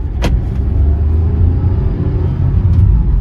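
A Tata Altroz non-turbo petrol car accelerates hard, heard from inside as a loud, deep engine drone and road rumble that builds steadily, with a couple of brief clicks.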